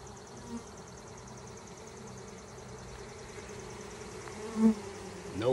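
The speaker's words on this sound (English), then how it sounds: "And this box is full of bees." A dense, droning buzz of many honeybees in a box, continuous and fairly close, with a couple of brief louder bumps near the end.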